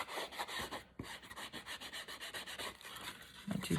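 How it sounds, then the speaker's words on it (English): Ink is rubbed by hand onto the edges of journal paper in quick repeated strokes, a soft close-up scratchy rubbing rhythm with brief pauses. "I'm just going to darken this edge here to separate it from this background by rubbing my ink on there."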